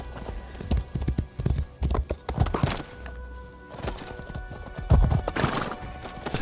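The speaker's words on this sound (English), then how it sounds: "I'm just running circles on a horse." Horse hooves clip-clop in irregular bursts as a mount runs in circles in the video game Elder Scrolls Online, with a whinny mixed in; the hoofbeats are close and loud throughout.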